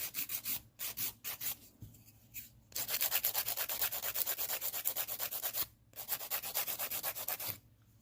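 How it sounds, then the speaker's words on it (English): Acrylic nails are filed with a rough 100 grit file in quick, close, rhythmic back-and-forth rasps, broken by short pauses between bursts of strokes. "So we're just filing it."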